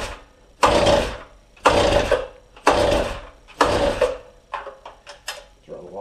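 A freshly rebuilt Stihl TS350 cut-off saw engine revs in four roughly one-second bursts, loud and close, then sputters in shorter uneven pops as it fails to hold an idle.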